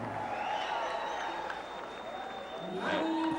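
A capacity crowd at the Mandaluyong City Sports Complex cheers and applauds after a boxing knockout, a dense continuous roar under an announcer's voice.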